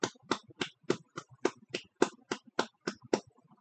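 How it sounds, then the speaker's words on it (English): A single pair of hands clapping at an honorary awards ceremony: about thirteen sharp, evenly spaced claps at a steady moderate pace, close by and alone with no crowd or voices. "Everyone give a round of applause."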